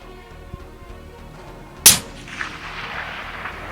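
A single sharp report from a Ruger Precision Rifle firing a long-range shot outdoors, loud and abrupt, then trailing off into a fading echo and low background noise.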